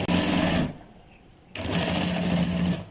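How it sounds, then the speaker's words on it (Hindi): A sewing machine stitches along marked lines on a kids' kurta fabric, a loud steady whir that runs for about half a second, pauses briefly, then starts again and runs steadily. "तो अब हमने इन निशानों के ऊपर ही सिलाई लगा देनी है"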